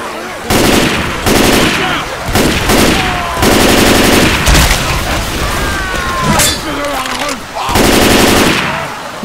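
Loud, close bursts of automatic gunfire in Left 4 Dead 2 on expert realism, repeated rapid volleys with brief gaps, game sounds and some voices in the background.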